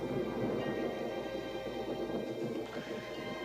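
A passing thunderstorm on a Western ranch gives a steady, loud wash of rain and low rolling rumble that fills the whole stretch without a break, with no voices over it.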